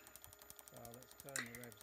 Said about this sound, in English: I'm hearing the coupling start to clatter fairly early on occasionally